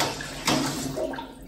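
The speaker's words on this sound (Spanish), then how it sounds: "le vamos a echar 2 galones de agua" Two gallons of water pour into a pot for a seafood caldo 7 mares, making a steady, hissing splash with a brief louder surge partway through.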